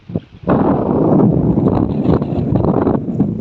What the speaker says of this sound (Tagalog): napakalakas pa rin ang hangin